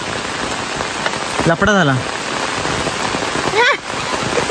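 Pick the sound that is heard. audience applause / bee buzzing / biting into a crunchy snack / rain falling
rain falling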